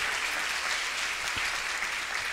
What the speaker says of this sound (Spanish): Un aplauso para los médicos.